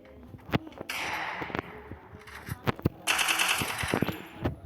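Rapid bursts of gunfire from a shooting video game with a Desert Eagle-style pistol and an automatic weapon, sharp close shots and two longer crackling automatic bursts in quick succession, fairly loud, with no talking.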